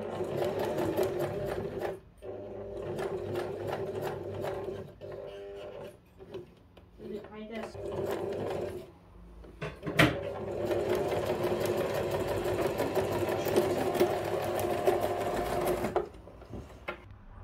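Sewing machine stitching the last part of a handmade bag, a rapid mechanical whir running in several bursts with short pauses between, close and loud, while someone talks between runs.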